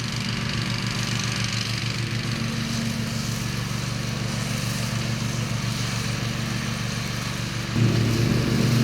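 A Cub Cadet RZT 50 riding mower engine runs at a steady, loud idle drone that holds evenly before shifting to a rougher, slightly louder note near the end; no voices.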